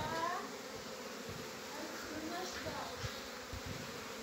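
Young honey bees taking their first flight near the hive, a steady soft buzzing drone throughout with no talking.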